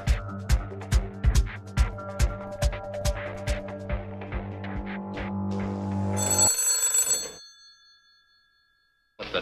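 An old-fashioned telephone bell rings loudly in a rapid repeated rhythm, alone without talk, then stops, leaving a fading high tone before silence.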